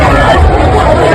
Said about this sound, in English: Do you hear the crowd?